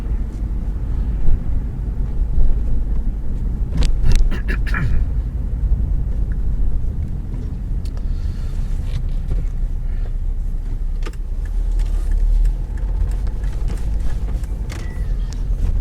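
A car drives through Canterbury, its engine a steady low rumble over continuous road and tyre noise, with a few brief clicks and knocks early on and no talking.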